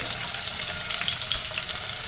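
Chopped onions go into hot oil with fried tempering spices, making a close, dense, steady sizzle with crackling pops and no voices.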